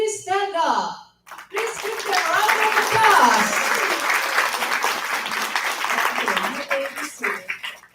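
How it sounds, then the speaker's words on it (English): A crowd at a corporate awards ceremony bursts into dense, continuous clapping that fills most of the clip, following a brief announcement and fading slightly toward the end. "Please give them a round of applause."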